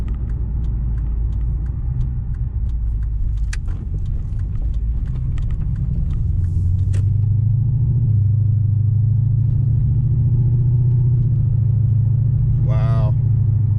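An Infiniti Q45 sedan drives slowly around in circles, its engine giving a steady, loud low rumble heard from inside, rising slightly in pitch and strength midway, with a brief faint squeak near the end.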